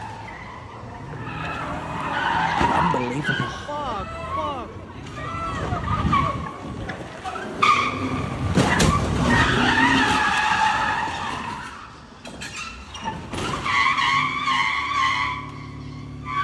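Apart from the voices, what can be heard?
car skidding and speeding away in a played video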